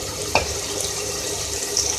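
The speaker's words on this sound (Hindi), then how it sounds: "अब मैं इसमें पानी ऐड कर रही हूँ" Water pours steadily into a pot of cooking beef katwa gosht, a continuous close splashing stream with a brief clink near the start.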